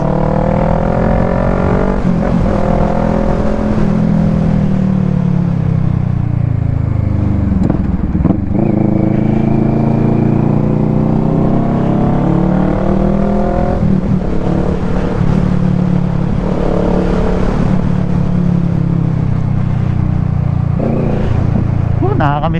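Kawasaki Z650 motorcycle engine riding along, a steady loud drone with rising and falling revs throughout, accompanied by speech-like voice over the engine noise.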